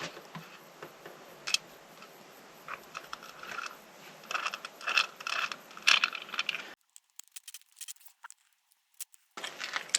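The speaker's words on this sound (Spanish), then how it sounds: "Y este se coloca aquí, con los tornillos cortos que vienen en uno de los sobres." A surveillance camera mount is fastened with short screws, giving a run of small close metallic clicks, rattles and scrapes, then a brief quiet before the faint ticking resumes.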